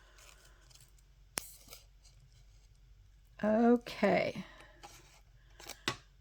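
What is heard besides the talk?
scissors trimming tissue paper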